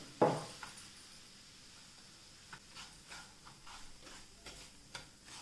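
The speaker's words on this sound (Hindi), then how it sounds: "सूजी को हमको गोल्डन होने तक भून लेना है।" Semolina being roasted and stirred in a pan on low heat, a soft scraping stir with a sharp clink at the start and faint intermittent scratches after, quiet and close.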